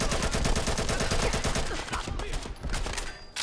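A rifle firing .308 rounds in Fallout 4 lets off a loud, rapid stream of automatic shots that fills the moment, then thins toward the end.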